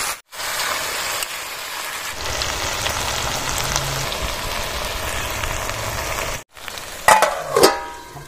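Kochur loti (taro stolons) frying with spices in a pan, a steady, dense sizzle that fills most of the stretch, broken by two short gaps and a few sharp scraping stirs near the end.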